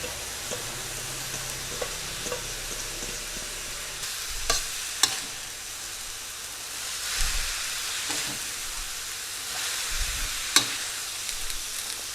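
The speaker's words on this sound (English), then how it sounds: "Next, we're going to throw in the cabbage." Shredded cabbage stir-frying in hot oil in a pan: a steady broadband sizzle runs throughout, broken by occasional sharper spatters and a few clinks of stirring utensils, with no voices.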